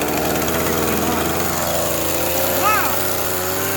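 A small two-stroke chainsaw engine runs at a steady idle with a rough, buzzing tone and a brief rev blip, close by, as people talk over it.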